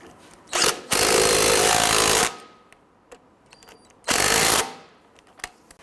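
An impact wrench rattles in loud, harsh bursts while tightening front lower control arm bolts on a 2007–2014 Cadillac Escalade, with two long runs and a brief one separated by quiet workshop clinks.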